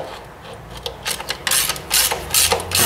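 Socket wrench ratcheting while working on the input shaft of a 1944 Ford 2N tractor, a series of close, crisp clicking bursts in short strokes that grow louder toward the end, with no talking.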